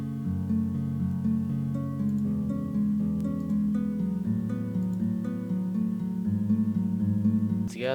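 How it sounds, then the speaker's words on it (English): A guitar melody layered over sustained piano chords in an FL Studio lofi beat moves steadily and evenly, with no voices over it. "And then there's a guitar on top, which sounds like this."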